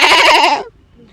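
A voice imitates a goat's bleat, one loud, wavering nasal cry lasting about half a second before cutting off into near silence.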